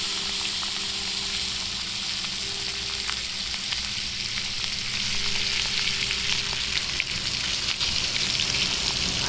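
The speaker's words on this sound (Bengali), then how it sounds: "তেলটা গরম হয়ে গেছে দোস্ত, এবার একটুখানি মাছটা ছেড়ে দেবো।" Fish deep-frying in hot oil outdoors, turned with a spoon, gives a loud, steady, dense sizzle that holds without pause from start to finish, with no voices.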